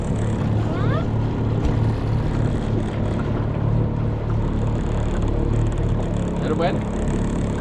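Motor dinghy running on open water, a steady close outboard drone with splashing wash throughout, while a voice speaks briefly over it.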